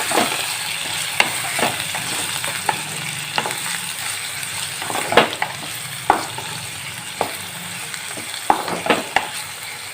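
Potatoes frying for potato fried rice produce a loud, steady close sizzle, broken by sharp clinks and scrapes of a stirring spoon against the pan, with no talk.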